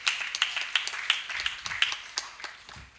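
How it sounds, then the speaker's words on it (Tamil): A church congregation at a Christmas morning service clapping hands in a steady rhythmic beat, sharp repeated claps at a moderate distance over a faint tonal background. "கைத்தட்டி கர்த்தரை ஸ்தோத்திரம் பண்ணும்."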